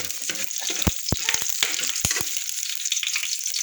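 Garlic sizzles in a pan while mussels are being cooked, a steady light frying hiss broken by several sharp clicks and knocks of a utensil against the pan, with no talking.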